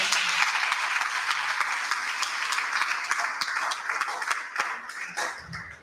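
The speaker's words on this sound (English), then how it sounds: "Please clap for them." Audience at a Camp xSEL graduation ceremony claps in a thick, sustained round of applause that gradually tapers off, with sharp individual claps standing out before it fades.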